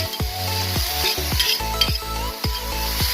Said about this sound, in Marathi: त्यामध्ये कांदा आणि कढीपत्ता व्यवस्थित परतून घेऊ